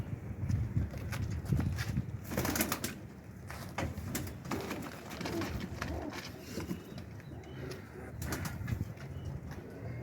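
Soft pigeon cooing from a loft of Pakistani pigeons, including a Dabb-wali hen, repeating through the clip with shuffling and flutter-like noises, no talk.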